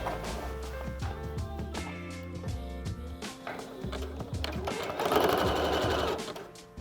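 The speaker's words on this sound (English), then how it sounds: "Fold it in half, sew down the long edge." A sewing machine stitches down the long edge of a folded cuff in quick, close bursts, the rapid needle rhythm starting and stopping several times, close and clear with no talking.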